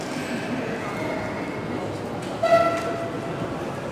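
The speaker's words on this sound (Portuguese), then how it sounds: "Estou na estação Gare de Medi." Ambience inside Brussels Gare du Midi train station: a steady hum of crowd and rail noise, with a brief tonal horn or signal sounding partway through.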